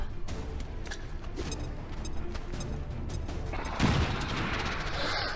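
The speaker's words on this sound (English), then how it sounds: "a grenade" A grenade goes off in XCOM 2 amid continuous low rumbling game noise, with a burst of heavier blast energy near the end rising over the steady background.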